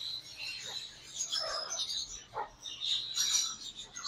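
Pair of talking ring-neck parrots at a pet breeder's in Islamabad, giving bright chirping calls and squawks in short bursts, moderately close, with some faint background noise.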